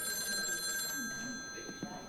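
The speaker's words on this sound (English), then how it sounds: "The phone continued ringing." An office telephone rings in a break room, a steady electronic trill with sustained tones repeating through the moment, fairly faint against a quiet indoor room with some low background murmur.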